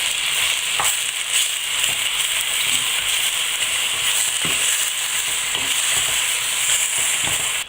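Beef and bacon lardons sizzle steadily as they brown in a pan for a Provençal daube, a continuous close frying hiss with occasional stirring clinks and no talking.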